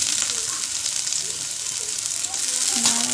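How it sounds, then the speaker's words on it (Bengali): Soya chunks frying in oil in a wok, a steady close sizzle and crackle running throughout with no pause. "একটা কড়াইতে তেল দিয়ে মিলমেকার কড়া দিয়ে দিচ্ছি।"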